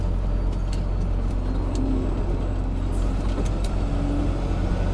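A Camaro drives past on a curvy road, heard as a steady engine and tire rumble under constant road noise from inside a trucking cab, with no distinct peak as it goes by.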